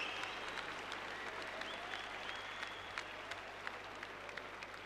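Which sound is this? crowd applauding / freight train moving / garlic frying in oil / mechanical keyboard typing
crowd applauding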